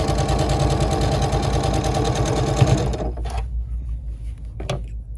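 Sewing machine stitching the seams of a quilt block, a loud, steady motor whir with rapid needle chatter running for about three seconds, then stopping, with a brief mechanical clunk afterward.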